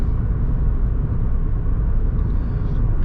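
A car driving on a French road during a driving-test route near Billom, slowing as it approaches an intersection; a steady, close low engine and road rumble runs throughout with no break.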